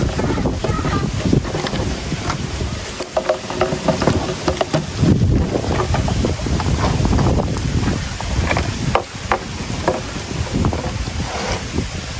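Steady wind rushes and buffets across the microphone throughout, with faint water and boat-like rumble underneath, while fishing for bubo fish traps at sea.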